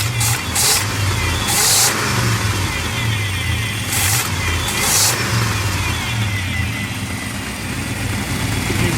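A big block engine in a squarebody truck runs steadily nearby, a continuous low rumble with a few brief rises in revs and faint whooshing bursts over the top.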